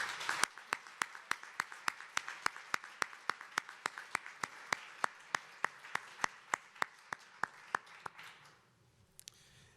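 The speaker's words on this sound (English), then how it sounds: "Please, one more round of applause for these gentlemen" Rhythmic clapping at a HUD Fair Housing Month event, a steady beat of sharp, evenly spaced claps for about eight seconds before it stops, over a soft bed of crowd noise.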